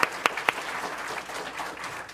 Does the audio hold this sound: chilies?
no